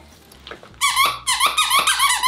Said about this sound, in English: And it squeaks, oh my god.